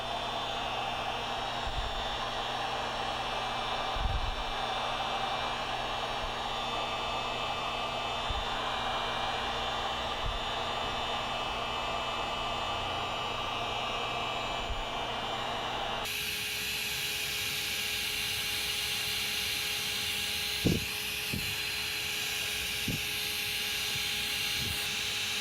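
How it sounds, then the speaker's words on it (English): A heat gun on its high setting blows steadily a few inches from filler applied to cracked car leather, a constant loud whooshing hiss that shifts tone partway through, with a few faint knocks. "I'm going to use a heat gun on high setting from a distance of about 2 to 3 inches to accelerate the"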